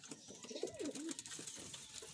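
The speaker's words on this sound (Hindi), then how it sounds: "ये मेरे कबूतरों ने बच्चे दिए हुए हैं।" Soft pigeon cooing, a gentle warbling call heard close up against a quiet hiss, with no talking.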